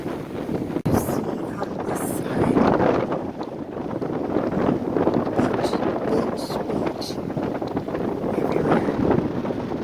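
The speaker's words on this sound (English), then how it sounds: "Very windy." Strong wind gusts steadily across the microphone at the shore near the Sandy Bay lighthouse in Nova Scotia, a loud continuous roar with rising and falling surges for the whole stretch.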